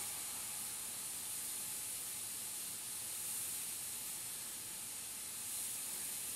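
Paint spray gun hissing steadily while darkening the edge of a painting, a continuous close airy spray with no pauses, heard alone.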